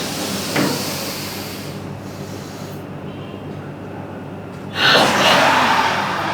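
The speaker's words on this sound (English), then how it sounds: "Inhale. Tense, tense. Charge your whole body up. Exhale." Deep breathing in a group exercise: a sharp inhale near the start, then quiet while the breath is held, followed by a long, loud, breathy exhale swelling toward the end.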